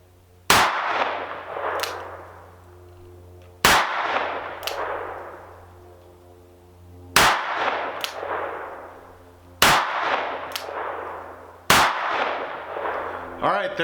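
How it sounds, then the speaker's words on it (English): Taurus M44 stainless .44 Magnum revolver with an 8-3/8 inch barrel fired at a range, five loud, sharp shots spaced a few seconds apart, each ringing out with a booming decay and some followed by a metallic clang. "there's the 6 shots"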